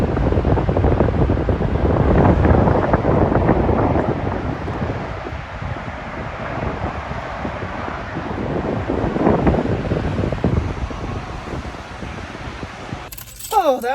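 Gusty wind buffets an outdoor microphone on a walk, a loud, rumbling roar that swells and eases over several seconds, with a faint voice near the end.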